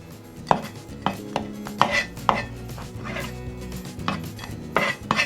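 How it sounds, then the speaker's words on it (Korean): Knife slicing abalone on a cutting board while preparing a Chinese braised seafood dish: a series of close, sharp cutting taps at an irregular pace, with faint kitchen clatter in the background and no talking. "전복도 슬라이스 해주세요."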